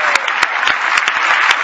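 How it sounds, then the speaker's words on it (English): A brief burst of audience applause at a New York City public service event, clapping in a steady patter with a few sharper claps standing out, moderately loud and alone. "Big round of applause."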